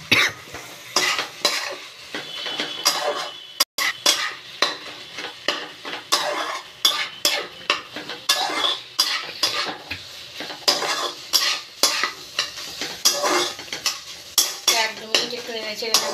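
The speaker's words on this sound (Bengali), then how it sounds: "একটু নেড়ে চেড়ে নেবো।" Lentil (masoor) dal being stirred in a pot with a spoon, with rapid repeated metallic scrapes and clinks against the pot over a light simmer, loud and close.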